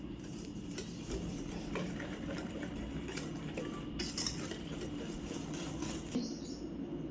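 Sugar being stirred into a bowl for a marble cake, a utensil scraping and clinking against the bowl in quick, close, irregular strokes, with no talking.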